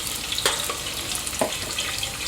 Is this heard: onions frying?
yes